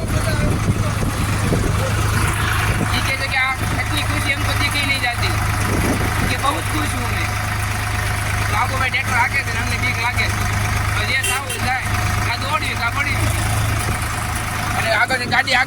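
A tractor engine drones steadily and loudly throughout, with a constant low rumble while people talk over it.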